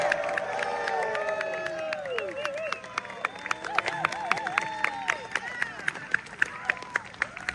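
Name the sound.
audience applause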